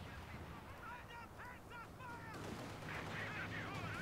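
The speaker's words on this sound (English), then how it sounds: "Here come some big airstrikes." Airstrikes and artillery from Company of Heroes 2 boom and rumble under a steady bed of battle noise, with a commentator talking over the game.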